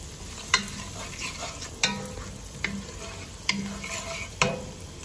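Food sautéing in a pan for a creamy sun-dried tomato and spinach pasta, with a soft steady sizzle broken by about five sharp utensil scrapes and clinks as it is stirred, close and without talk.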